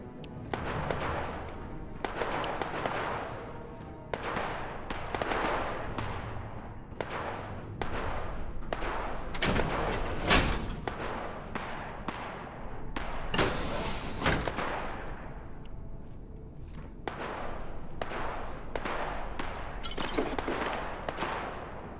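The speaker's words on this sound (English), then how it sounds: "What are you shooting at?" Rapid bursts of gunfire and heavy thuds from a Fallout 76 firefight involving a Mr. Gutsy robot, repeated shots and impacts sounding loud and close, with short pauses between volleys.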